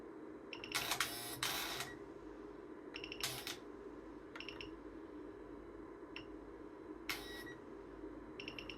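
A BMW exhaust flap actuator driven by a PWM signal gives off short, faint mechanical clicks and brief whirring bursts at irregular intervals as its duty cycle changes, over a quiet background hum.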